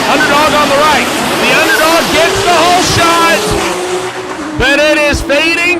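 Drag racing cars at the DCT World Cup roaring down the strip toward the finish line, loud screaming engines rising and falling with repeated sweeping passes, under a commentator talking throughout.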